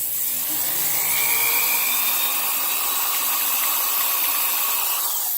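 A drill whines steadily as it bores a small hole through a plastic part for a Suzuki Sirius motorcycle, a high, sustained tone close by with no talking.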